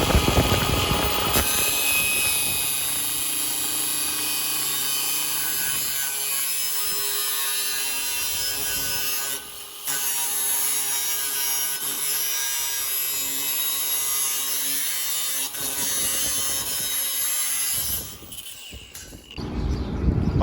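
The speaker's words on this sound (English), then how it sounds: "when you use the cutoff wheel and you cut metal, it leaves a jagged edge" A cutoff wheel cutting through sheet metal in a fabrication shop, a loud continuous high grinding whine held close up for most of the clip, with two short dips where the cut pauses.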